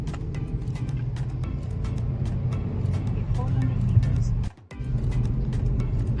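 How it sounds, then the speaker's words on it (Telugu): Morning road traffic in the Kondapur area of Hyderabad: a steady, close rumble of passing cars and heavier vehicles that drops out briefly near the end, then returns. "ఇంత మార్నింగ్ కూడా ట్రాఫిక్ ఉంది"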